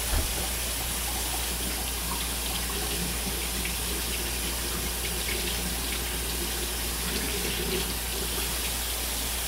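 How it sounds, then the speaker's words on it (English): A red spatula is rinsed under a running kitchen tap while making soap cupcakes, a steady close-up rush of water that continues unbroken throughout. "And rinse that red spatula too."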